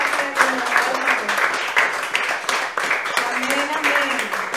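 A church congregation claps together during a Spanish-language worship service, a thick, continuous wash of hands with a voice speaking over it throughout.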